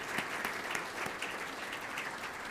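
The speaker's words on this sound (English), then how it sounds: "let's give all of our elected leaders a big round of applause and appreciation" Audience applause rings out at a morning business forum in honour of elected leaders, a steady dense clapping from a large crowd with no voices over it.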